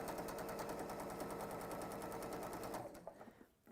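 A sewing machine stitches in a fast, steady mechanical rattle for nearly three seconds, then slows and stops, leaving faint clicks.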